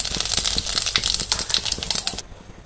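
Cumin seeds dropped into hot oil left from frying fish crackle and spit in a rapid, dense burst of sharp pops, close and loud, then stop abruptly.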